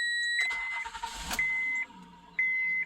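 A Honda Odyssey engine cranks briefly and catches on a cold start, then settles into a steady idle, loud and close with no talk.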